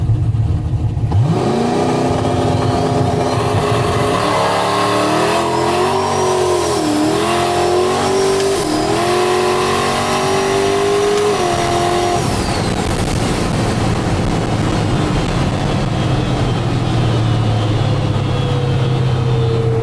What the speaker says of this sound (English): Smoky in here, blowing the tires off.